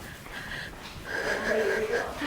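Dog breathing hard in a garage beside a square-body truck being rewired, a repeated wheezing pant with rhythmic rasping breaths, fairly close and rising in loudness.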